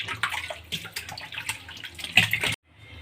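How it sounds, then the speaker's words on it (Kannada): Splashing and sloshing of cold water as cleaned goat tripe is washed by hand, close and uneven with bursts of dripping, ending abruptly in near silence. "ಈಗ ಮತ್ತೆ ಇನ್ನೊಂದು ಸಲ ತಣ್ಣೀರಲ್ಲಿ ಎಲ್ಲನೂ ತೊಳ್ಕೊಂಡು ಎತ್ಕೊಂಡ್ರೆ ಆಗೋಯ್ತು ಬೋಟಿ ಕ್ಲೀನ್ ಮಾಡಿರೋದು"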